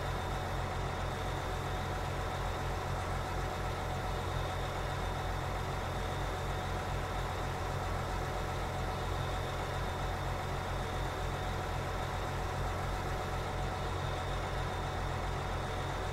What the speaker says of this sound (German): Ich mache mal den Motor an und klappe ihn nochmal aus